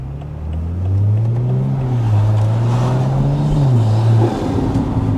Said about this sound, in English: you can probably hear that we've got a much deeper tone on the exhaust